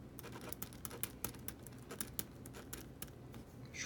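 Pilot Better retractable ballpoint pen writing on paper, heard close as a rapid series of sharp, clicky ticks and scratches, louder and rattlier than a soft glide.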